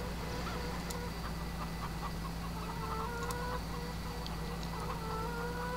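Chickens in Farming Simulator 2013 cluck and squawk repeatedly in short bursts over a constant low machine hum, moderately quiet and with no voices.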